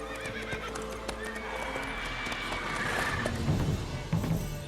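Roach, the horse in The Witcher 3 video game, gives a loud, close neigh over clopping hooves and ambient game sound that swell toward the end.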